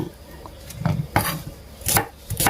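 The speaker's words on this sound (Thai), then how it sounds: "หั่นไว้ก่อนค่ะ หั่นเตรียมที่จะโขลกเครื่อง" Knife chopping shallots and Thai red onions on a cutting board, prepared for pounding into curry paste; several sharp, irregular chops sound close and clear with short pauses between them.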